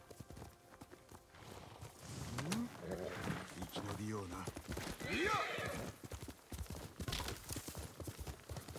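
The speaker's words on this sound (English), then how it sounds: "I could get my horse. I should probably get my horse." A horse in the video game Ghost of Tsushima whinnies loudly in a couple of rising calls over galloping hooves, with game ambience and someone talking in between.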